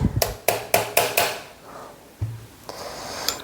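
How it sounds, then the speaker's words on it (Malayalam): A hammer taps a nail set into a hole to knock loose a part of a sewing machine: five quick, sharp metallic taps at close range, then a pause and a couple of softer knocks. "ആ ഹോളിൽ ഒരു ആണി വെച്ചിട്ട് ഇങ്ങനെ തട്ടിയാൽ മതി"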